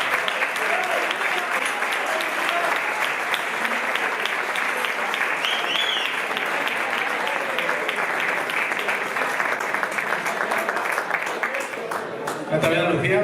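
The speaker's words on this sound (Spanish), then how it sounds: "Un aplauso." An audience at a 2023 bullfighting gala in Segorbe claps continuously during an award presentation, producing dense, steady applause from a large crowd with no pauses.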